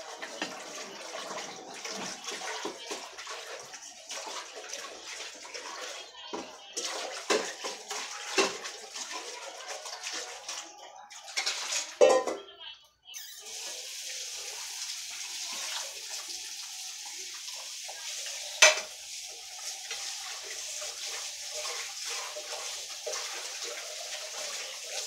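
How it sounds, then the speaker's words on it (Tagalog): A cooking pot is rinsed under running hot water at a campsite stove, with uneven splashing and sloshing that rises and falls, a sharper clatter around the middle, then a steadier flow, heard close with no talk. "Babanlawan ko muna itong kaldero namin"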